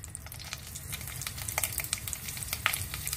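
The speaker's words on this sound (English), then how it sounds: "Here I have some oil and some mustard seed. Now I will add some curry leaf." Curry leaves sizzling in hot oil with mustard seed: a steady close crackling fry with scattered sharp pops and spits, no voices.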